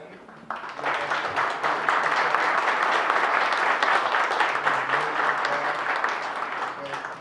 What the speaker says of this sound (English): How about a round of applause for American Legion Post 10?